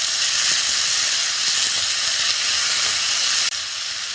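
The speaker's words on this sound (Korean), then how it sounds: "볶는 소리가 이 상태가 경쾌하게 되면 이제 들립니다" Vegetables and seasoning stir-frying in a pan for spicy squid stir-fry, giving a loud, steady, bright sizzle that stays even throughout, with no voices.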